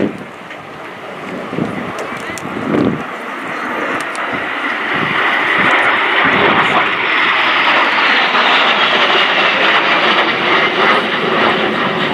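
A de Havilland Vampire jet, flown by the Norwegian Air Force Historical Squadron at RIAT 2018, builds from a distant whine into a loud, sustained roaring flyby, with wind buffeting the microphone.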